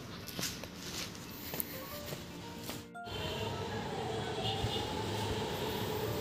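A metro train rumbles steadily near a metro station in Hyderabad, a continuous low roar that swells after a brief break, with faint footsteps and street noise around it.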